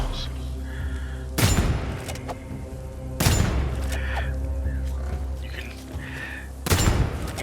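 Crossbow and pistol shots striking armored training dummies in Vermintide 2, three loud sharp reports roughly two seconds apart, each with a booming tail, over a steady low game ambience.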